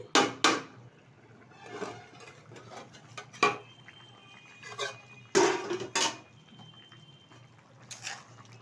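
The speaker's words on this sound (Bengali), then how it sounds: "ঢাকনাটা তুলে দিচ্ছি" A metal lid clinks and scrapes as it is lifted off a cooking pot of simmering fish curry, among several sharp clattering knocks of cookware spaced through otherwise quiet kitchen air.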